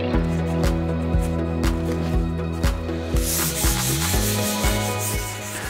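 Wet sanding primer on mountain bike frame parts with 800 grit paper, rhythmic back-and-forth rubbing strokes, close and steady with a slight wet squish.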